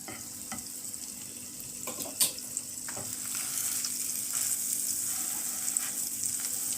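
A mozzarella-stuffed chicken and egg sandwich frying in butter in a pan gives a steady, close sizzle throughout, broken by a few sharp clicks and taps of the pan and utensil, with no talking.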